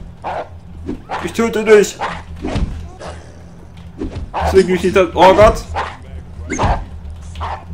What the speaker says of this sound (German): Ein bösartiger Hund!